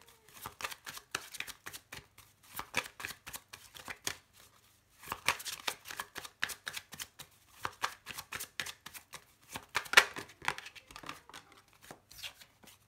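Tarot cards shuffled by hand in close, quiet bursts of rapid riffling and slapping. The bursts are separated by brief pauses.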